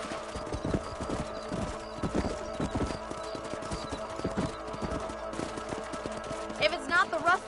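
Steady clip-clop of horse hooves at a trotting rhythm in Red Dead Redemption, with a brief whinny near the end and a busy game-style ambience underneath.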